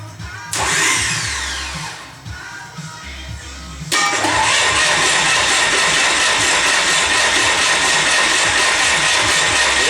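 A freshly rebuilt Bobcat engine churns and rattles for a few seconds, then catches and roars loud and steady, running close up to the end with no talk.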